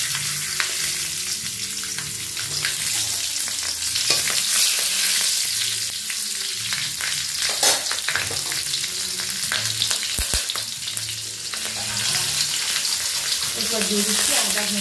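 Cumin seeds, bay leaf and green chilli frying in hot oil, a loud continuous hissing sizzle with crackles and occasional stirring scrapes, close up and steady throughout.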